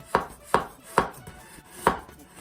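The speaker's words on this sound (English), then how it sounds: "So the way we do is we're going to do the thin slice here" Knife thinly slicing shallots on a cutting board for Pad Thai: four crisp, close chops, the first three evenly spaced and a longer gap before the last, with no talking.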